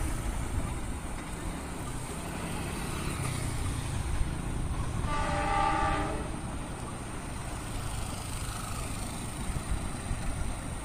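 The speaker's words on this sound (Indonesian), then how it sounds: "kelihatannya ada kereta yang mau lewat nih" A train approaches and rolls past a small station at dusk, a steady rumble of wheels on rails under the horn, which sounds once in a loud sustained blast midway through, then fades back into the running noise.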